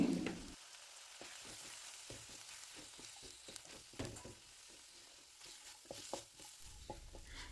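Chilli, turmeric and coriander powder mixed in a frying pan for a dhaba-style mushroom matar masala, a faint low sizzle broken by quick irregular scrapes and taps of the spoon.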